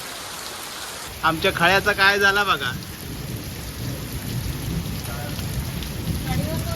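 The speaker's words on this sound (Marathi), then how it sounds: "कोकणात पावसाक सुरुवातच झाली असा म्हणा काय हरकत नाही सकाळपासून बारीक बारीक होतो आणि आता तर कहरच केलाय ना" Heavy monsoon downpour with thunder in Konkan at night, a steady loud hiss of rain running throughout while a person talks briefly over it near the start.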